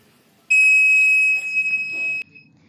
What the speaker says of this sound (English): when it is reaches our first probe, we can hear the buzzer sound from buzzer